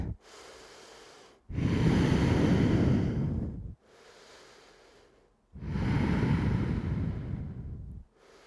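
Slow, deep breaths during a prenatal yoga session in the third trimester: two long, loud inhale-exhale cycles, each separated by quieter breathing, close to the mic with no talking.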